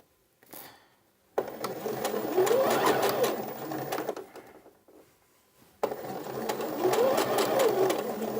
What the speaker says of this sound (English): And then we'll do a back stitch. And then we'll continue down.